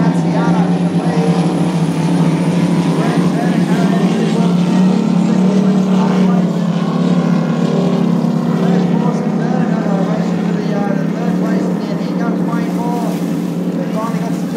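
A ski racing boat roars past at a race, its engine a loud, steady droning whine that holds throughout with wind buffeting the microphone.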